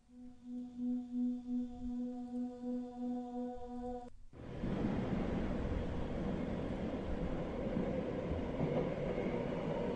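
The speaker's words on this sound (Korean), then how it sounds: "이런 방송이 흐르고 전철은 움직이기 시작했습니다" A subway train at a platform, a steady tonal hum for about four seconds before it cuts off into a loud, continuous rumbling roar as the train pulls away, sustained and close.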